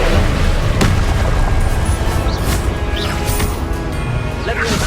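Spell-blast explosions and crashing impacts from the Confringo fire spell in the Hogwarts Legacy video game, loud and dense throughout with a sharp boom near the start and busy game effects layered over a continuous rumble.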